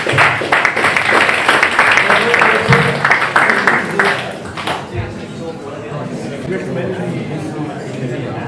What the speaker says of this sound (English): a round of applause for the first half of the big competition